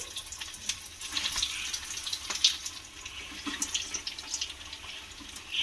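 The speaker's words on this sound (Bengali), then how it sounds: "এবারে এখান থেকে একটা করে এই ফিশ ফ্রাইগুলো নিয়ে নেব, নিয়ে এই তেলের মধ্যে দিয়ে দেব" Bhola fish fry pieces sizzle in hot white oil, a steady, fairly quiet hiss with small crackles running continuously throughout.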